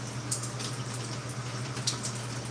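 Running water rinses through hair, a steady close splashing and trickling flow with a low hum underneath and small bursts of spatter.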